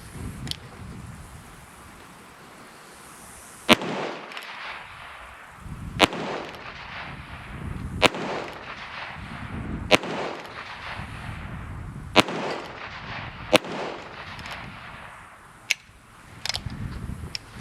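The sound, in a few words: Heritage Rough Rider 16-inch revolver firing six rounds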